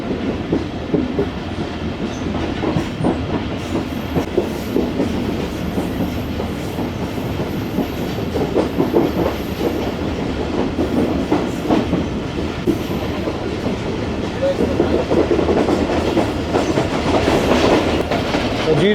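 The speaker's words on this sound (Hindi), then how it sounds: "खानपुर से पहले ट्रेन हमारी डेस्टिनेटेड स्पीड को फॉलो करते हुए आगे बढ़ रही है" Tezgam economy-class passenger train running at speed toward Khanpur, a steady dense rumble with rhythmic clickety-clack of wheels over rail joints, continuous and close throughout with no talking.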